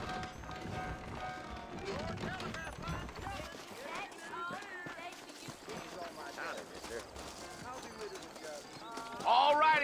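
Horses clip-clopping at a run in the Red Dead Redemption video game, steady hoofbeats running through the whole stretch beneath game characters talking and background music, with a sharper burst near the end.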